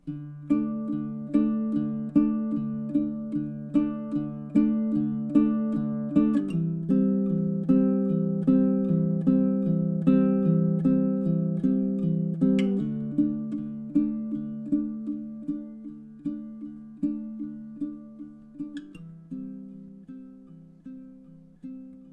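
Baritone ukulele picks a gentle fingerstyle melody over two chords through measures 24 to 27 with a repeat, steady plucked notes ringing close and soft, gradually fading toward the end with no voices.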